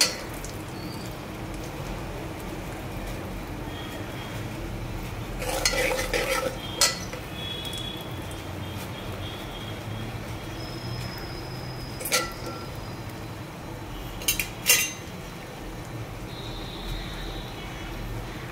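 Onion frying for sambar in a pan, a steady soft sizzle throughout with occasional scraping clinks of a spoon stirring against the pan, moderately quiet and with no talking.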